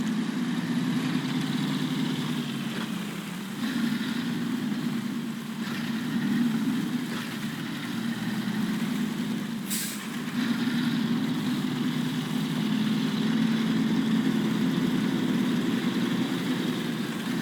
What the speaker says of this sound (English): I did, as you saw, upgrade the engine in this, so the Fleet Star should have enough power